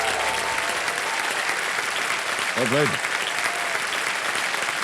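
Studio audience applause on a Hindi quiz show after a contestant wins points, a dense clapping wash throughout with a brief spoken word and a short musical sting partway through.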